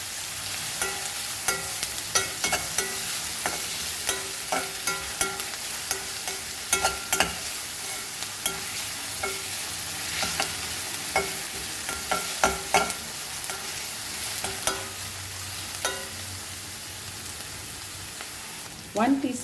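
Onions frying in a pan over a medium flame, a steady bright sizzle broken by repeated sharp scraping clicks of stirring, close and alone.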